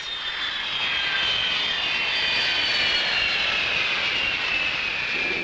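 A jet airliner on final approach to land, its steady whining engine roar loud and close, holding level throughout with a slowly falling turbine pitch and no talk.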